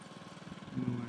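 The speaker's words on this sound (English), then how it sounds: "It's like a giant reel mower." A large reel mower runs at a bowling club, a steady low engine drone with a rhythmic pulsing beat that swells louder near the end of the short stretch.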